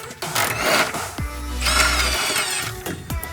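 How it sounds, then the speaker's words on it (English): An impact wrench fitted with two extensions removing strut bolts on a V8-swapped Camaro, short bursts of loud rattling hammering separated by brief pauses. "So I'm taking an impact with 2 extensions on it"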